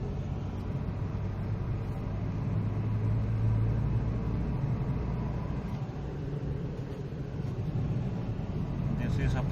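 A Datsun Redi-Go running on CNG drones in third gear, a steady low rumble of engine and road noise heard from inside the car, with a voice talking over it.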